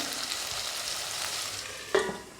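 Tomatoes and another sliced ingredient stirred together in a hot frying pan, a steady sizzle with soft scraping throughout and a brief louder clatter near the end.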